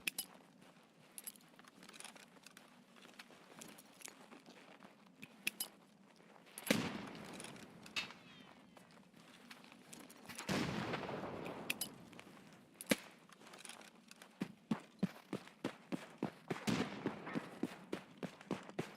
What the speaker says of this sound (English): I'm gonna yeet some grenades.